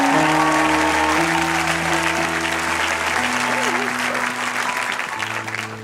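A church congregation at a pastor's sermon breaks into sustained applause, dense clapping from a large crowd mixed with cheering voices and a musical tone underneath, loud and close.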